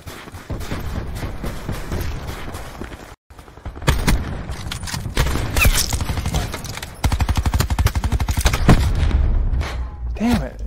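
A rocket launcher fires in a Black Ops 4 gun game match, with loud gunfire bursts and heavy blasts in quick succession and a brief gap, while a player talks over the action.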